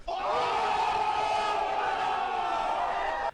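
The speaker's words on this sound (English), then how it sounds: "The crowd are going nuts for this one." A crowd at a Carlsen vs Niemann chess match roars and cheers in a loud, sustained wall of voices that holds steady throughout, with no clear single speaker standing out.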